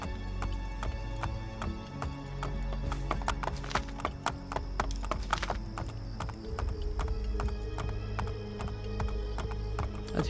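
Rhythmic horse hooves clip-clop steadily over a hard surface in Assassin's Creed Brotherhood, with a whinny and layered game background sounds, loud and continuous.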